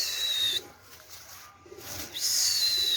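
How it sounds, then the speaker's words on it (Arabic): Pigeons kept in a cardboard box coo softly and intermittently in low murmurs, with a thin high whistling tone and hiss at the start and end. "شباب قدامكم الطيور طبعا على الجوع"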